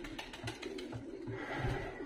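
Black-tailed barefoot fighting pigeon in Tbilisi, Georgia, giving a series of soft, low, rhythmic coos at close range over a faint steady background hum, with no talking.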